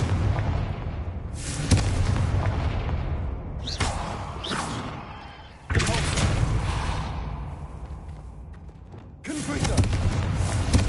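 Confringo blast spells fired in Hogwarts Legacy, several loud booming explosions in sequence with broad bursts, each followed by a rumbling decay, over continuous game ambience.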